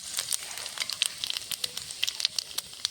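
Whole panch phoron spices and a halved dried red chilli sizzle in hot mustard oil in a kadai, with quick irregular crackling pops spattering over a soft hiss.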